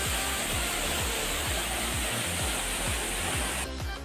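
Heavy water crashing down Bamni Falls at Ajodhya Pahar, Purulia, a loud, steady broadband roar with no break, filling the scene close up before easing slightly at the end.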